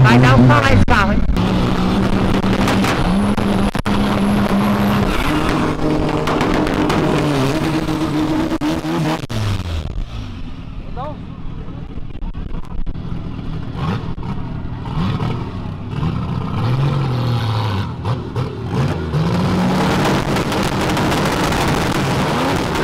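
A 400-horsepower Chevrolet Opala roars and revs hard at close range, pitch climbing and dropping through repeated accelerations, then settles to a rougher idle before revving up again near the end, with voices talking over it throughout.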